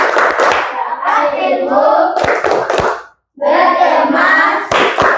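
Children clap their hands together in a classroom, with a few sharp claps mixed among bursts of sung chanting voices that dominate the clip.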